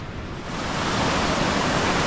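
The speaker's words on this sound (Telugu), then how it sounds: "ఇక్కడ చూడండి ఎంత స్పీడ్గా వెళ్తున్నాయి వాటర్ ఫ్లో." Fast-flowing water of a forest waterfall stream in Maharashtra's Andharban forest, a steady broadband rush that swells slightly louder and holds constant, with no voices.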